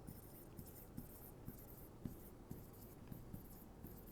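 Faint, steady tapping and scratching of marker or chalk strokes on a lecture board, with regular light ticks over a constant room hiss.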